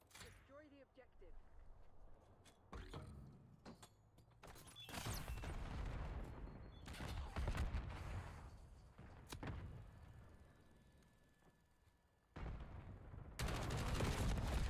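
Video game gunfire from a shooter played during a late-night session, bursts of shots and thuds scattered through the stretch, with a louder sustained barrage near the end, mixed with game sounds.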